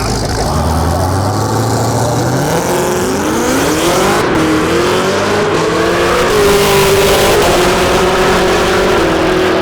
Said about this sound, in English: Camaro's the first car to do an actual burnout.